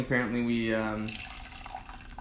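Water splashes over 2009 Xizihao Guafengzhai tea leaves in a quick rinse, a steady pouring wash that follows a voice talking at the start.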